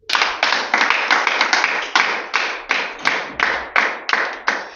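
A church congregation clapping in praise, a steady run of about fourteen loud, rhythmic bursts of claps, close and dense, with no talk over them.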